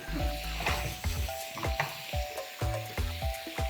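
Jangjorim soy sauce pasta sizzles and spits in a hot pan of water and oil, with steady frying hiss broken by repeated sharp pops and clatters of stirring, close and fairly loud.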